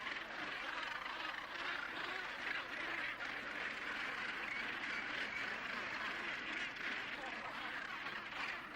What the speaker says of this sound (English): they'll call, and the one that's sitting on the nesting site will answer